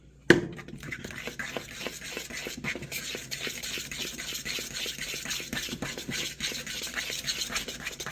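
Butter and eggs are stirred together in a bowl, a quiet run of repeated scraping, clicking strokes of a utensil in an irregular rhythm, close and fairly faint.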